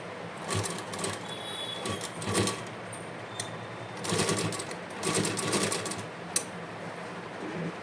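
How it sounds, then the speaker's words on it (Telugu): A sewing machine stitching a doormat made from old leggings runs in short uneven bursts of rapid whirring and needle chatter, close by, with pauses between runs and a sharp click near the end. "కొంచెం హార్డ్గా ఉంటుంది మిషన్, పర్లేదు, మెల్లగా కుడుతుంటే వస్తుంది."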